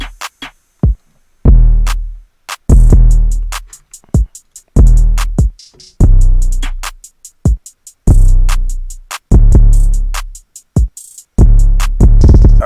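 A melodic hip-hop beat, made in FL Studio, with booming 808 bass notes under sharp drum hits, a choppy rhythm with brief gaps between hits, loud and upfront, no voices.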